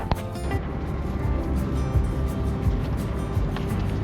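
A steady low engine drone and water rumble from a boat underway off K'gari Island near Hervey Bay, continuous and fairly loud throughout, with a little wind noise.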